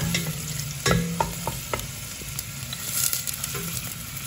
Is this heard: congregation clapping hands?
no